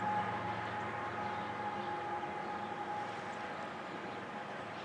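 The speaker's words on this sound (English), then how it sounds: "There's a train going by." A train passes through the railroad town of Durand, Michigan, heard as a faint, steady, low rumble that holds evenly throughout with no talking.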